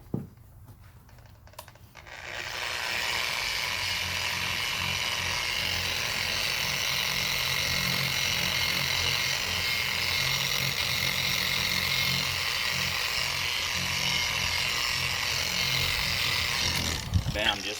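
A car headlight lens is sanded with a fresh power sanding disc, a steady, loud, abrasive whirring grind that starts after a couple of seconds of quiet and runs continuously until near the end.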